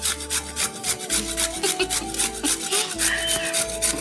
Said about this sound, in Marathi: आता एक एक गाजर इथे किसून काढ.